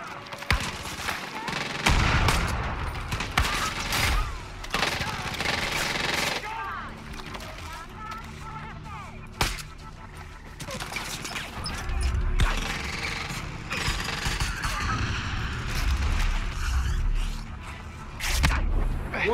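Gunfire in the video game Far Cry 5, with sharp shots and bursts in an irregular rhythm among game effects and a deep rumbling background. A player talks over the action.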